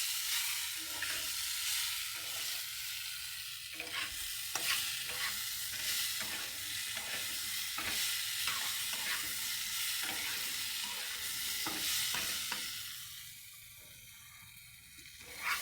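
Dal and vegetable curry sizzles steadily in a pan over a gas flame, a close, continuous frying hiss broken by repeated stirring scrapes, with no talk over it.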